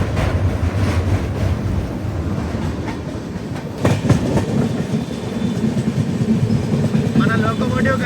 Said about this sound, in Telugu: అమృత్సర్ మెయిల్. ఇప్పుడు అమృత్సర్ నుంచి హౌరా వెళ్తుంది.